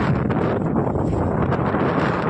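Strong wind buffets the microphone at Netanya beach in Israel, a steady loud roar of broadband gusts with no clear pauses and no voices.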